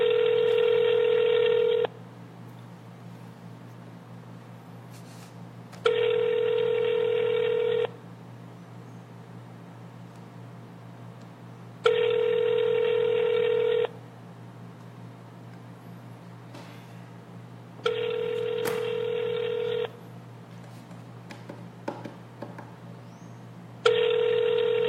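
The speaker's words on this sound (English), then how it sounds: "Calling Jerry David on his cell phone." Telephone tones sound while a cell phone is being called, a steady tone in long evenly spaced bursts of about two seconds, each followed by roughly four seconds of near silence over a low hum.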